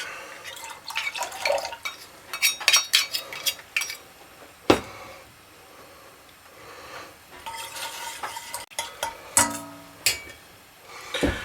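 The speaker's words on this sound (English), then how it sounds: "We're going to add in that slurry." Cornstarch slurry poured into orange chicken sauce in a pan over high heat, followed by irregular stirring, spoon clinks and liquid splashes, close and fairly busy with quieter gaps.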